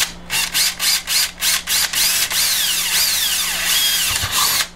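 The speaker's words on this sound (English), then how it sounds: "I got a 1/4-inch pilot drilled there." A power drill whirs in several short bursts, then runs in one long steady stretch with rising and falling pitch as it bores a 1/4-inch pilot hole for a button, up close.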